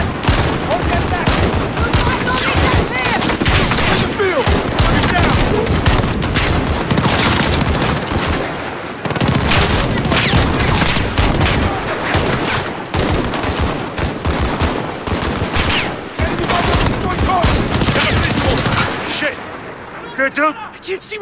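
Dense, sustained automatic gunfire and bursts from a U.S. embassy siege battle in Call of Duty Modern Warfare (2019), loud and continuous across the scene with soldiers shouting over it, easing off only near the end.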